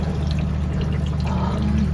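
Water runs steadily into a washing machine starting its rapid cycle, a constant close rushing flow that continues without a break.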